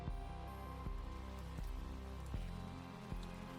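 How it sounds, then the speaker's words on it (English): A rain sound effect in a fantasy audio drama gives a soft, steady patter under sustained background music, with low thuds recurring at regular intervals. "I ended up hiding under a tree to escape the rain"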